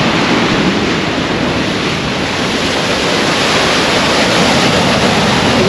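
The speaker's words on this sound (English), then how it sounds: "Lovely waves, look at those juicy waves coming in." Sea waves roll in on the Holderness coast at Aldborough below the cliffs, a loud, continuous surf roar with steady broadband wash and a few faint swells in it, with no voices.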